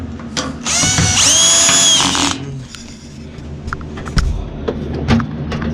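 A power drill drives screws into a Whirlpool Duet washing machine during repair, giving a loud whirring burst of about a second and a half, followed by clanks and handling noises.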